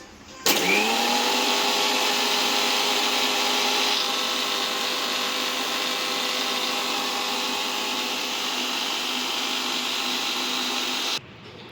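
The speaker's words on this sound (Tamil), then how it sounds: "ஸோ ஆயில் லெமன் சேர்த்ததுக்கப்புறம் மிக்சியில் ஒரு ஓட்டி எடுத்துக்கலாம்." A mixer grinder blends oil and lemon into mayonnaise, a loud, steady motor whine that starts abruptly, holds constant for about ten seconds with a slight drop partway, then cuts off sharply.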